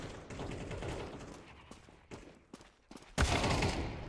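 AK rifle fire in Counter-Strike 2 comes as scattered bursts and thuds over busy game noise, with a sharper, louder volley breaking in near the end.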